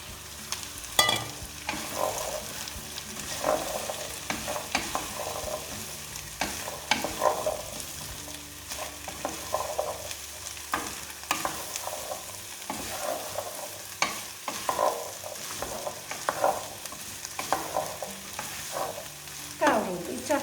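Chickpeas stirred into sizzling fried tomato paste in a pan, with a continuous loud sizzle and repeated scraping, clattering stirs of a spoon against the pan throughout.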